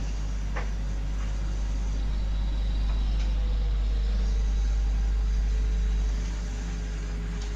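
Airliner taxiing on the ground after landing at Toulouse-Blagnac, heard from inside the cabin as a steady low engine rumble and hum with a faint whine, swelling slightly mid-way, no talking.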